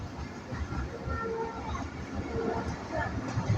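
Steady low rumble and rattle inside a Tungipara Express passenger train rolling slowly, a continuous close interior noise with no clear speech.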